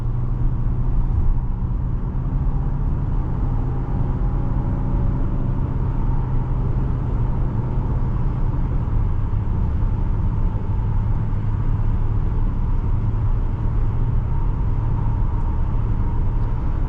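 Inside a 2026 Infiniti QX60 Pure on the road, a constant low rumble of tire and road noise fills the cabin, steady and muted for the whole stretch, with no voices.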